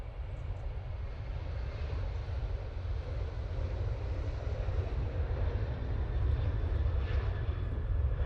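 A TUI Dreamliner jet departing Manchester Airport for Tenerife gives a steady low roar of distant engines, building slightly toward the end, with some wind rumble and no talking.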